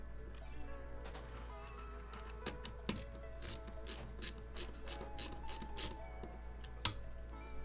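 Screws being tightened down on a gaming motherboard, a quiet series of close ratcheting clicks and small metallic ticks, irregular then quickening, over a low steady hum.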